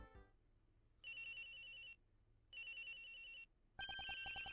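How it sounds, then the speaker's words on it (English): A phone rings in the Ace Attorney Investigations 2 video game, sounding as three bright electronic ring bursts separated by short pauses, the last one shifting into a sharper, pulsing tone. "Oops, excuse me. Phone call."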